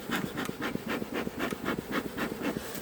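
Honey bees buzz continuously around beehives on a homestead, a steady close hum with faint repeated ticks and no voices.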